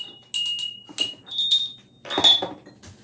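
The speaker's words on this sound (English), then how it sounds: "Where's my bell? You get the Santa bell." A small Santa bell rings in several bright, jingling shakes in irregular bursts, close and fairly loud, with no voices over it.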